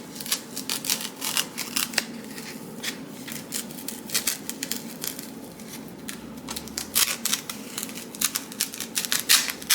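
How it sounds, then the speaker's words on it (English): A craft knife cuts through craft material for a Halloween shadowbox, giving repeated short, crisp scraping clicks in an irregular rhythm, close and fairly faint, with no talking. "All right, I got my craft knife, let's see how that works."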